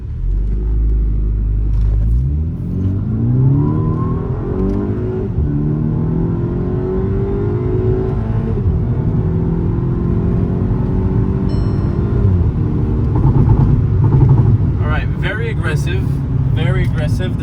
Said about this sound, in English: So now we're going to launch the car in sport, and we'll see how it performs.